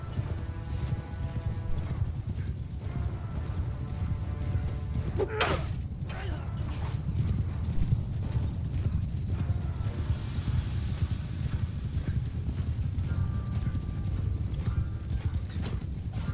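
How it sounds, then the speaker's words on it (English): Horses in a Bannerlord battle, Nord and Alexandrian heavy cavalry, thunder along with steady clip-clop hoofbeats and an occasional whinny over a dense, continuous battlefield din, with a loud crash partway through. "Horses!"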